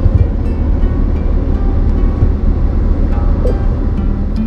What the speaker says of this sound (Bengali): প্যাসেঞ্জার ট্রেন যাচ্ছে।